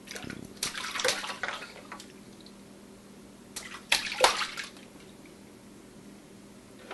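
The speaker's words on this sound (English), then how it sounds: "That's a lot of splashing" A child splashes water in a sink, two bursts of close, wet splashing and sloshing with quieter dripping and trickling in between.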